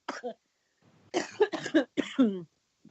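A person coughs several times in quick bursts, close and fairly quiet, with short pauses between the coughs.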